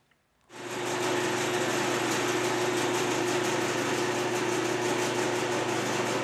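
A milling machine starts up after a brief click and runs at a steady, loud whine while taking an 11-thousandths cut off a metal tap block, continuous and close with no voices.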